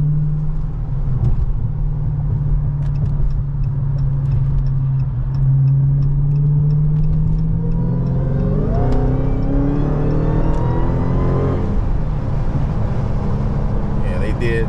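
A Dodge Charger Hellcat on Cooper all-season performance tires pulls onto a highway in track mode, its engine droning steadily and then rising in pitch as it accelerates hard, loud inside the cabin with a driver talking.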